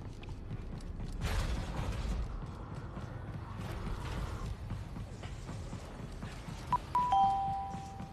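A mechanical door grinds and creaks open in the Jedi: Survivor video game, with rumbling machinery throughout and a bright ringing chime near the end, and no voices.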